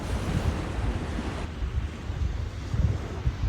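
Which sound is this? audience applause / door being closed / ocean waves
ocean waves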